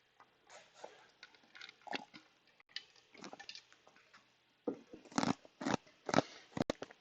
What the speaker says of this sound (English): And ice cube chewing.